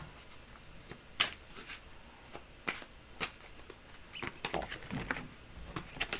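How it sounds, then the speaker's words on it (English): Tarot cards are shuffled by hand in a long series of quick papery flicks and riffles, irregular and close, with occasional sharper snaps, no talking over them. "I'm shuffling these for that question."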